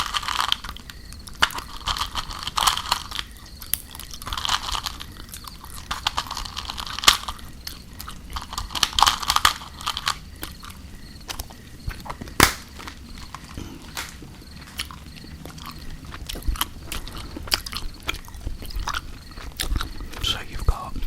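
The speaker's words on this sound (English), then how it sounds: "what I'm gonna do is chew a little bit of gum" Starburst chewing gum is chewed close up, with moist clicking and crunching bites repeating irregularly alongside a crackling campfire and soft whispered talk.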